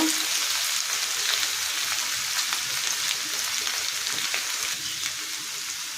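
Potatoes frying in a pan give a continuous dense sizzle, close and fairly even, with faint crackles and spits scattered through it and nobody speaking.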